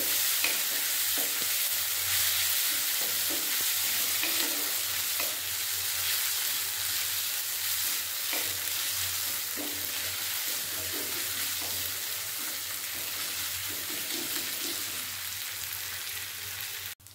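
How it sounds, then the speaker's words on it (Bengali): Ginger-garlic paste ground with green chilies sizzles steadily in a pan with frying onions for an egg and potato curry, with a continuous hiss and frequent scraping stirs throughout. "আদা রসুন ভালোভাবে ভেজে নেব।"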